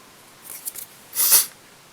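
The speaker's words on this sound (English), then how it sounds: "so we've got our red craft fur bunch, and cut that quite short." Scissors snipping red craft fur short while tying a Jack Frost mini jig fly, two quick soft cuts close up in a quiet room.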